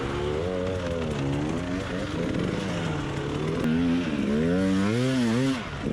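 An enduro dirt bike engine labours on a sandy hill climb during a hard enduro race at GrindingStone, its loud, continuous drone rising and falling in pitch as the throttle is worked, close by and with no voices.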